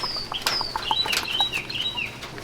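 A hen clucking and chirping near a small backyard pond, a run of quick high-pitched calls and squawks with some wing flutter, close and fairly clear over a quiet background.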